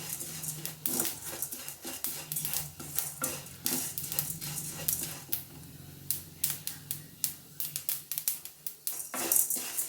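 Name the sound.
curry leaves being fried and stirred in a kadai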